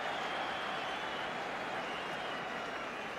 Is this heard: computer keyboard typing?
no